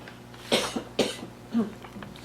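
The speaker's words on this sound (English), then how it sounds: "Excuse me, the cough." Three sharp coughs in a row, close and fairly loud, each a short burst with brief pauses between them.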